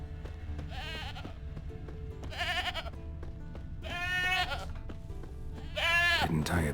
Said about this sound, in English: there is the goat